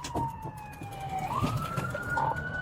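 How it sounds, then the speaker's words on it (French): A police car siren wailing with a rising and falling pitch, loud and close, over road noise from a pursuit. "le policier va tenter de voir si le suspect réagit aux sirènes et à ses lumières"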